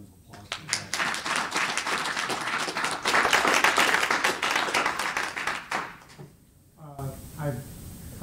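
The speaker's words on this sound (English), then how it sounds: "All those, please give us a round of applause." Audience applause at a cooperative's annual meeting: broad sustained clapping from a large crowd that swells, holds for several seconds, then fades, followed by a voice speaking.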